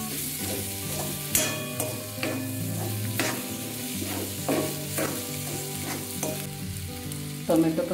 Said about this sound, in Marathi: टोमॅटो पण आपला छान परतलाय.